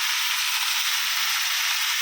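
Potato, green banana and poppy seed paste with green chilli and turmeric fry in a pan, giving a constant, close, bright sizzle without pause and with no talk.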